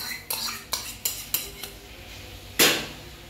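Spoon clinking against a bowl while ginger, garlic and chilli paste are stirred with whisked yogurt into chicken for a Kolkata-style chicken kosha marinade: a handful of sharp metallic taps, then a louder scrape near the end.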